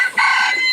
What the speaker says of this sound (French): il y a toujours mon magnifique petit coq, ma petite beauté